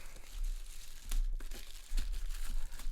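A little plastic bag crinkles and rustles during the unboxing of a Mobapad M12HD case, close-up handling with irregular crackles and soft tearing-like bursts, fairly quiet, with no talking.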